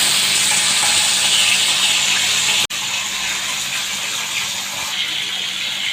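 Fish marinated in chilli, salt and turmeric frying in hot oil for an Odia kau fish curry, a steady loud sizzle and hiss running throughout with one brief dropout partway, no voices.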